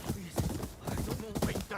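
Several horses clip-clop along a road in the video game Ghost of Yotei, with close, steady hoof beats layered under game voices talking.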